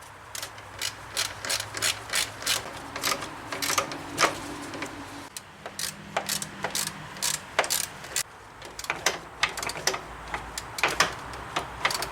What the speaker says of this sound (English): Now I'm just gonna thread these bolts in.